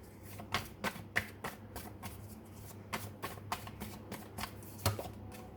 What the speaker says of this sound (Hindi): अब मैं आपके लिए कार्ड्स निकाल रही हूँ